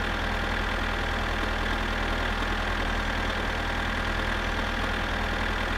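A tractor engine in My Summer Car labors steadily in low gear, a constant low idling chug with a faint knocking pulse, even and unbroken with no voices.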